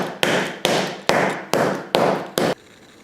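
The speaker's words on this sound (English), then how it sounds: "while it's in its packet, give it a good smash, and with a rolling pin noise tends to help" A rolling pin smashes a bar of dark chocolate still in its packet in a kitchen, six loud, sharp whacks in a steady rhythm about half a second apart, close to the mic, then quiet.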